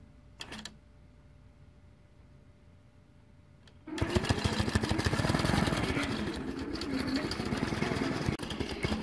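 A computerized quilting machine stitches a block with a ruler function, starting with a few quiet micro stitches and then breaking into a loud, steady, rapid mechanical whir that runs continuously through the rest.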